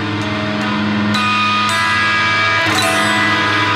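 A single diminished guitar chord is strummed and left to ring, with a few faint string noises as it sustains up close.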